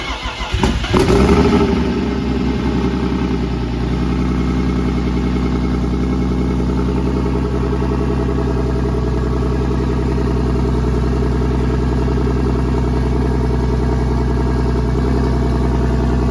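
A turbocharged M52B28 straight-six in a BMW E46 cranks and catches on its first start, with a burst of noise, then runs at a loud, steady idle close by for the rest of the stretch.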